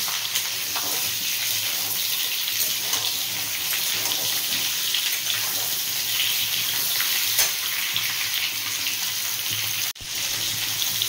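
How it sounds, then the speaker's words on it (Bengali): Mango pieces frying in hot spiced oil for a Bengali mango pickle, a steady dense sizzle that runs unbroken and close for the whole stretch, with a brief dip near the end. "এবার একটু ভেজে নেব।"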